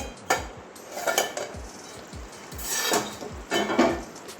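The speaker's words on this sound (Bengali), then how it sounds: "এবারে ঢাকনাটা খুলে দেখছি" A cooking pot lid is lifted off a pot of kundri posto, giving a few metallic clanks and knocks with light scraping, close by and moderately loud, with no speech.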